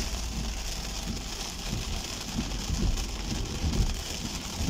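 Heavy rain drums steadily on a car during a downpour, a dense continuous hiss of drops hitting the roof and windshield, loud and close, with no talk.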